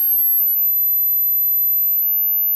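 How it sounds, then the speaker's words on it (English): A steady high-pitched electronic buzzer tone from a dog repellent circuit, around 12 kHz, holds continuously, thin and piercing, with no other sounds around it. "let me adjust the frequency to a smaller value so you can hear it on the buzzer"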